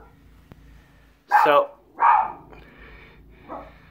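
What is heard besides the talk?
dog barking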